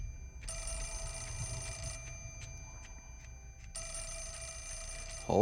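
Telephone ringing in the video game Fatal Frame IV: Mask of the Lunar Eclipse, coming from downstairs in a hospital: two electronic ring bursts separated by a short pause, moderately loud, with no one talking.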